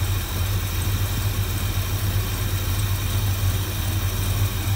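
Dodge Dart with a 383 big-block engine and Edelbrock 650 carburetor idling, a steady deep rumble heard up close and loud, with no talking.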